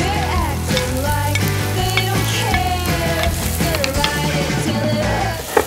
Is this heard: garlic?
yes